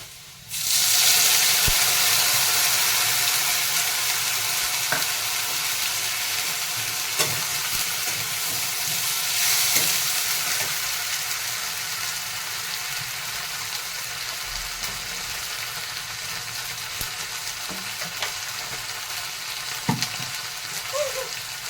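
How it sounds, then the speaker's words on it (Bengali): Potatoes frying in a pan, steady loud sizzle with occasional stirring clatter, running continuously with no talk, heard while cooking a home curry. "আলুটা ভাজা ভাজা হয়ে গেছে ভালো করেই ভেজে নিয়েছি আলুটাকে"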